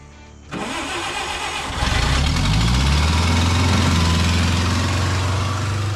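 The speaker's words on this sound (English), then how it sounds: "how good of a feeling it is when the bobcat starts so effortlessly on the first go" A Bobcat loader's engine cranks briefly and catches on the first try, then settles into a loud, steady idle close by with a low, even rumble.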